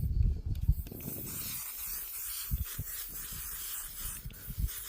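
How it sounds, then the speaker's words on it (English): Soft continuous hiss of a spray aimed at a face, faint and steady, with low rustling and handling bumps underneath. "So yes, I'm using spray"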